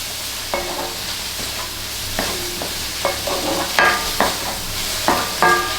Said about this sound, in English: To that now, I'm going to add my onion.